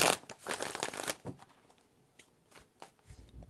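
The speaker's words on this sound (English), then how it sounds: "4 shuffles for the Sagittarius." Tarot cards are shuffled in a quick, dense burst of papery riffling up close, then trail off into a few scattered soft card slides and taps.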